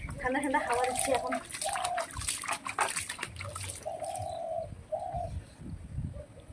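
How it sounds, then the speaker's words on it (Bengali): Birds coo in soft, repeated pigeon-like calls near a small backyard pool on a hot afternoon, with someone talking and some splashing mixed in. "ওই পাখি স্নান করবি তো আয়"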